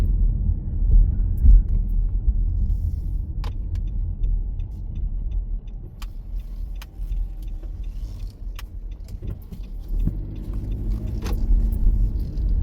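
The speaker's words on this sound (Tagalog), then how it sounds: "Traffic." Road traffic near a shopping center, a steady low rumble of passing cars with occasional louder vehicle swells, heard from nearby.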